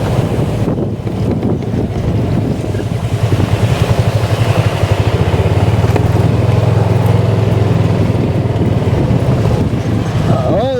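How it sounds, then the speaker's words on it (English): A car approaches along a road in The Villages while strong wind buffets the microphone, and a low engine rumble swells and holds near and loud. "Car coming."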